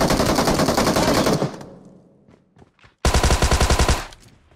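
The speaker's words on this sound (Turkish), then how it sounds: "Ne güzel vurdu adama bak." Rapid automatic gunfire in PUBG Mobile, a loud sustained burst, then a lull with scattered shots, then a second loud rattling burst.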